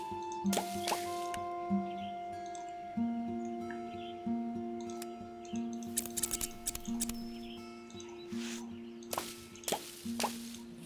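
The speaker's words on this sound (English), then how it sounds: "we can water everything" Plants being watered in a cozy witch-themed life-simulation game garden: a steady run of soft plopping, dripping water effects repeating every second or so over a gentle musical background, with no talking.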